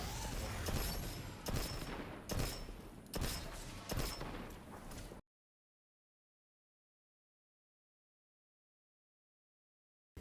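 Gunfire from a Destiny 2 fight against a barrier champion: dense, loud bursts of shots in a few rapid volleys over about five seconds, then abrupt silence.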